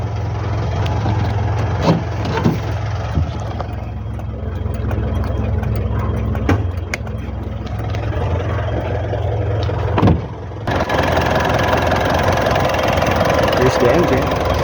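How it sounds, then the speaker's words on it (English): A 2009 Mitsubishi Montero Sport's 2.5-liter common-rail diesel with a variable geometry turbo idles steadily with a low, even rumble that runs the whole time, briefly dipping near the end, while a person talks over it. "diesel engine with common rail."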